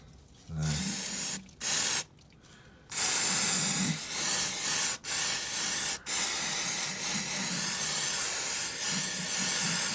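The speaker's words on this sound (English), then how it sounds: "A bit of brake and clutch cleaner." Brake and clutch cleaner aerosol sprayed around an engine bay during a tidy-up, heard as several close, loud hissing bursts of varying length separated by short pauses.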